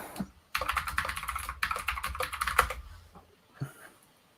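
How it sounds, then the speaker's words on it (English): Clicky computer keyboard typed in quick bursts of sharp, close clicks, with a short pause near the end and no talk over it. "Oh, those are clicky keyboards."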